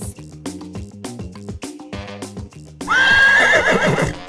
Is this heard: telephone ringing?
no